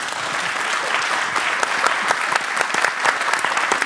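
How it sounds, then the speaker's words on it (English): Sustained audience applause at a graphic design talk event, many hands clapping steadily and closely for a few seconds with no talk over it. "Maybe you can give them an applause."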